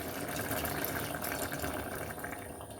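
Strained tamarind water is poured into a simmering ridge gourd and lentil tamarind curry, making a soft, continuous trickling splash close by. It lasts only a few seconds and no one talks over it.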